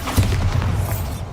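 The Bombarda explosion spell in the Hogwarts Legacy video game goes off as a single deep, booming blast with a rumbling tail that lingers for about a second.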